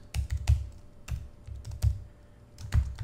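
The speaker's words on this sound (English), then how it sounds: "And I'm going to type in my address" Computer keyboard typing as an address is entered: a quick irregular run of close, crisp key clicks in short bursts with brief pauses, no voices.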